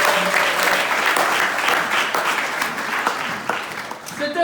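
A church congregation breaks into sustained applause, dense clapping from many hands filling the space for several seconds before tapering off, with a voice briefly audible.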